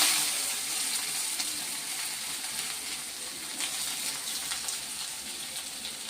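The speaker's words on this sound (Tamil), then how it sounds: "வெங்காயம் போட்டுக்கிறேன்" Onion slices dropped into hot oil already seasoned with cinnamon, stone flower, fennel and mustard seeds give a steady, close hiss of frying that holds evenly throughout.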